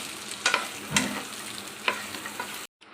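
Coconut chutney ingredients fry with turmeric in a pan, a steady close sizzle broken by a few sharp scraping stirs of a spatula, then cutting out abruptly near the end.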